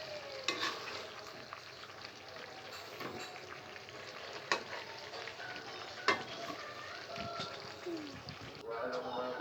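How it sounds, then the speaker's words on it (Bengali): Pieces of chicken roast stirred through fried-down masala in a pan, giving a low steady sizzle with scraping spoon strokes and occasional knocks against the pan, nearby and moderately quiet. "আমি রোস্টগুলো দিয়ে একটু নেড়ে চেড়ে নিব, যেন নিচে না লেগে যায়।"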